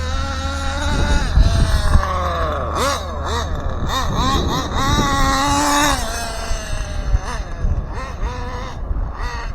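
Vintage 1/8-scale nitro RallyX Probe VXI RC car, front-wheel drive and pulling badly to one side, runs with a high buzzing two-stroke engine that revs up and down in repeated rising and falling sweeps, steady and fairly loud throughout.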